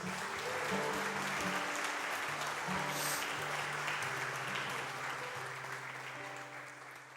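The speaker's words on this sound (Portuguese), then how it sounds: "Vamos aplaudir a Deus?" A church congregation applauds steadily after a call to praise, a dense, even wash of clapping that holds for several seconds with sustained organ or keyboard tones beneath, fading slightly toward the end.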